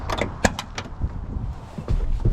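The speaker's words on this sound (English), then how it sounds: "Windows roll down really nice and smooth." Power windows on a 1984 Ford F-150 4x4 pickup roll down with a brief, smooth motor hum, punctuated by a few close mechanical clicks and taps inside the cab.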